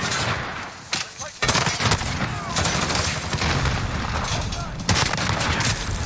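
An Origin 12 shotgun fires in Call of Duty, several loud booming blasts spaced irregularly amid dense gunfire and battle noise.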